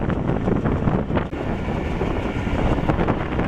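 Strong wind buffeting on a moving train crossing the new Jamuna rail bridge, a loud continuous roar of gusts and rumbling carriage noise with no voices.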